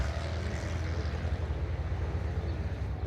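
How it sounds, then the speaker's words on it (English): A motorcycle engine rumbles steadily close by in a garden, a low throbbing drone that holds loud and even throughout with no voices. "Now that the motorcycle is gone"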